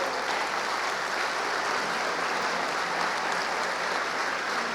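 A church congregation applauds in a steady, even wash of clapping that holds at the same level from start to finish, with no talk over it.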